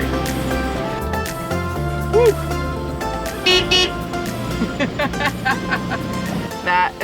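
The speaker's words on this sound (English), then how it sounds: "That is what we call the blind turn honk." A car horn gives short toots before a blind turn on a narrow road, sounding among engine rumble and road noise, with people talking nearby.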